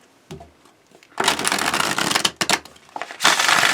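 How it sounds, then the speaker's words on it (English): A tarot deck being shuffled face up, with a brief soft rustle followed by a long run of dense riffling and sliding card noise, a short pause, then another burst of shuffling, close and fairly loud with no talking. "Give me while I shuffle this deck face up, because that's the way I have to do it with this deck."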